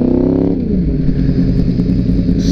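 Yamaha R1 sport motorcycle of about 180 hp ridden around Cibinong, its engine droning steadily near the mic with a pitch drop as revs fall early on, then a continuous rumbling rev with some clatter.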